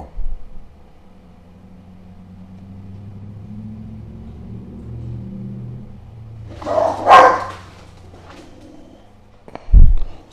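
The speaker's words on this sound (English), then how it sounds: "They decided to come back inside and bark and play and beat each other against the walls and stuff." Puppies bark indoors in two short, loud bursts after a low vehicle rumble has faded, the barks sharp and close against an otherwise quiet room.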